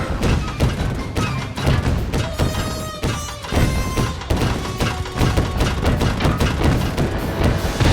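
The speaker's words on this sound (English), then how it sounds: "The Murray is a cannon crusher!" Crashing and thudding impacts from the Murray acting as a cannon crusher in Sly Cooper: Thieves in Time, dense and continuous over game music, with repeated heavy hits throughout.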